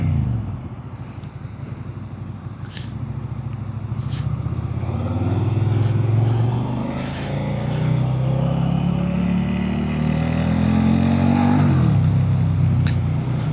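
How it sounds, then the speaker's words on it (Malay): A Suzuki SV650 motorcycle engine hums and rises in pitch as it accelerates, shifting gears while weaving left and right, with steady wind rush over a long continuous ride. "sedikit preview kenimbalan motosikal ni lah. Senang nak menciluk kiri dan kanan."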